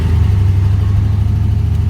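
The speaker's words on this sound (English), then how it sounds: "and then I demand even more of it by stabbing the throttle on the truck." A gasifier-fed truck engine gives a steady, loud, low rumble as the throttle is stabbed, the revving held at a constant heavy drone with no voices.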